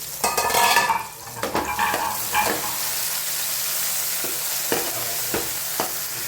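Lapsi being stirred and mixed in a pan while it fries, a steady sizzle under irregular scraping strokes of a spoon against the pan, louder and busier at first, then sparser clicks, close and without talk.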